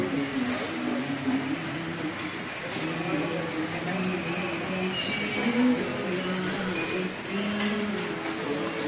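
Steady rumble and rattle inside a moving Vande Bharat train, with wheels clacking and faint metallic clinks, while people talk quietly over the running noise.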